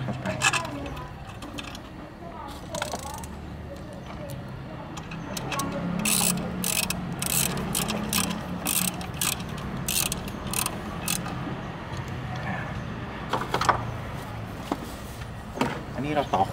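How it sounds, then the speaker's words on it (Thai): Ratchet or wrench clicks while a nut is tightened during installation of an alarm on a Honda CBR150 motorcycle, coming in rapid bursts of sharp metallic ticks with workshop background noise. "ยึดน็อตเข้าไป"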